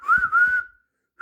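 A train engine whistle sounds in two short, steady tonal toots, close and clear, followed by a brief silence and the start of another toot.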